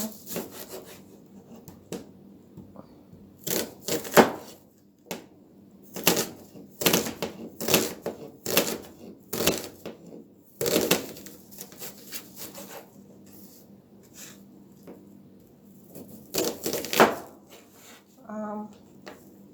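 A knife chops onions on a board, a close series of sharp irregular cuts and scraping strokes clustered in bursts, with a person talking in between.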